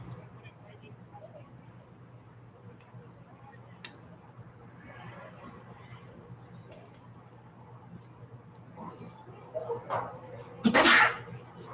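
One sharp sneeze bursts out near the end, over quiet background chatter and ambient noise at an amateur baseball game broadcast booth.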